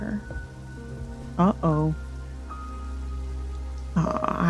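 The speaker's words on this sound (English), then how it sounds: "I love the rain on the window sound, like that rain sound." Steady rain patters against a window in the video game Strange Antiquities, a soft continuous wash beneath game tones and a brief spoken exclamation.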